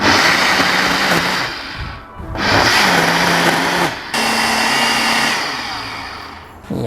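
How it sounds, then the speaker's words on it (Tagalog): Kitchen blender whirring through grilled chicken marinade ingredients, loud motor pulsed in bursts with brief pauses and changing pitch as it churns. "And then i-blender lang natin."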